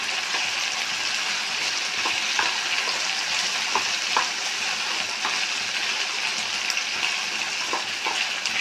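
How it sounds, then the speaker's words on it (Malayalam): Fried potato pieces being tossed and stirred into chilli potato in a pan, giving a steady close sizzle with scattered clicks and scrapes of a spoon throughout, no voices. "പിന്നെ നമ്മൾ ഫ്രൈ ചെയ്ത് വെച്ച ഉരുളൻകിഴങ്ങ് ഞാൻ ഇതിലിടണം. എല്ലാം കൂടി മിക്സ് ആക്കാം."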